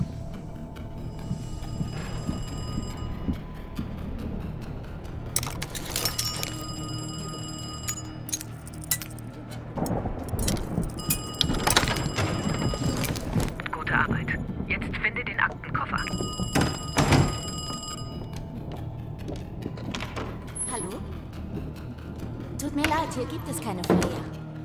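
A telephone rings in bursts during a call scene in Call of Duty Black Ops Cold War, with bright repeating tones broken up by thuds and clinks while voices talk over much of it.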